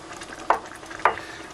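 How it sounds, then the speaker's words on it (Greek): Meat simmering in a pan with water is stirred, two distinct scraping strokes about half a second apart over a soft, steady sizzle, close and without speech. "Θα ανακατέψουμε λίγο."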